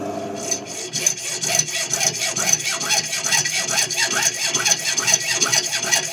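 Close, rhythmic back-and-forth rasp of a saw cutting down a bar for a guitar build, quick even strokes repeating steadily throughout.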